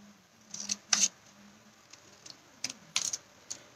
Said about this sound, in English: I'm going to get my paper snips and we're just going to snip through middle of the plain one